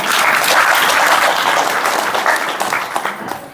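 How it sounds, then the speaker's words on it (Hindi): An audience at a spiritual talk breaks into sustained, dense clapping that fills the space loudly and evenly, then thins out slightly toward the end. "इतने की तो ताली बजानी चाहिए।"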